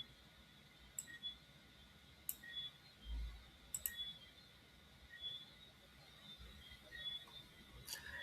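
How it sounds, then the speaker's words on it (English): Computer mouse clicks, a few sharp isolated clicks spaced irregularly over a quiet background hum, faint and close. "And then we're going to click on next"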